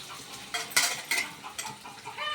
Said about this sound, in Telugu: ఆయిల్ సరిపోతుంది దీంట్లో పచ్చిమిరపకాయలు వేసుకుందాం